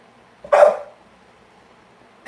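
A single dog bark, sharp and fairly close, rising out of a quiet indoor room and fading within a moment, followed by near silence.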